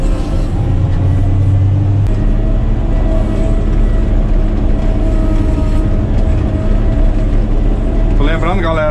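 A Caterpillar 120K motor grader runs with a loud, steady engine drone throughout, a brief air-brake hiss early on, and someone talking over it.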